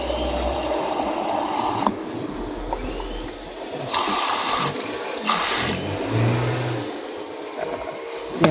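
Water splashes and pours into a growing container holding purple sweet potato slips, in several bursts of hissing flow separated by brief pauses, close and moderately loud.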